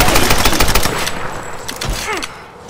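Gunfire in the video game Tomb Raider (2013) rattles in rapid, loud bursts of close shots. It thins out toward the end, where a brief voice-like cry surfaces.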